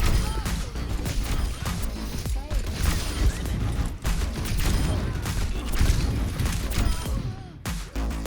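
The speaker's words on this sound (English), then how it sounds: "Walking up behind someone and instantly exploding them is probably bad for the game, but it's so satisfying" Explosions from Junkrat in the video game Overwatch 2 blast in dense, loud succession over busy game music and action, with a brief drop near the end.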